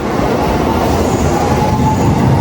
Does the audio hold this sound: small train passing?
yes